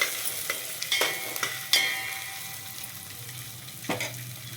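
Onions roast in a pan for egg curry, a soft continuous sizzle broken by several sharp spatula clacks and scrapes against the pan, close and fairly quiet.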